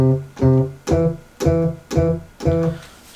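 A very hard finger bass instrument in Pro Tools plays six punchy, evenly spaced notes in a steady rhythm, each with a firm attack and short sustain, loud and alone.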